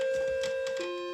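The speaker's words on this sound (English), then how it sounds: "The bell chimes went off." Bell chimes set ringing by a note played on a piano give a short, bright, sustained metallic tone with a faint shimmer, shifting pitch slightly near the end.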